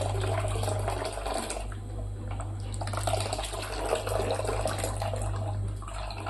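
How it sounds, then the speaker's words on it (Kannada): Water poured steadily into a milk powder mixture while cooking restaurant-style matar paneer: a continuous close splashing trickle over a low steady hum, with no talking. "ಈಗ ನಾನು ಇದಕ್ಕೆ ಮತ್ತೂ ಒಂದು ಸ್ವಲ್ಪ ನೀರು ಹಾಕ್ಕೊಂಡೇನ್ರಿ."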